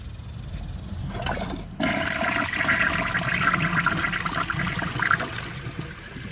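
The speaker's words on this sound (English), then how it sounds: "now I'm gonna wait for the tank to fill up" A 2007 Corona Aquajet toilet tank refills with a steady rushing and hissing of water, close and constant, after a brief quieter moment near the start.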